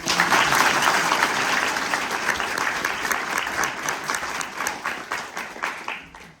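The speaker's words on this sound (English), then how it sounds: "So again, a big round of applause for our warriors." Audience applause after a Maori haka performance at a cultural show in New Zealand, steady and loud dense clapping that gradually thins and fades out near the end, with no talking.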